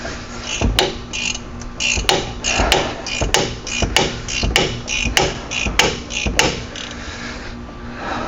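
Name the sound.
tapping a socket on with a hammer while replacing a Ram 1500 wheel hub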